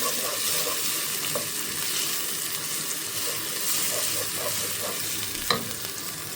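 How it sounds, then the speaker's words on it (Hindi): Thick yogurt stirred and fried in a pan of spices for peas pulao, a steady broad sizzle throughout with soft scraping strokes and one sharp utensil tap near the end, no voices. "इसको अच्छे से इसके साथ मिक्स करते हैं और भूनते हैं"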